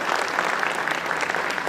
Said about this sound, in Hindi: तो जोरदार तालियां होनी चाहिए।